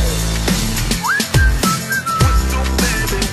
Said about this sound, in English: Can you blow my whistle